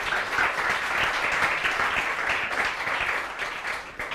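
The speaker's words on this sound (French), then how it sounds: "Des applaudissements pour tout ce beau monde public." Audience of parents, teachers and coaches at a summer school event breaks into dense, sustained applause, loud and continuous throughout with no voices standing out.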